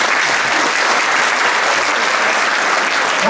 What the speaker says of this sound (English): You can applaud for him.